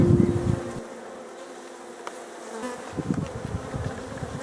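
Honeybees buzzing in an open hive during a beekeeping inspection, a close, steady droning hum that swells and fades slightly, with no voices.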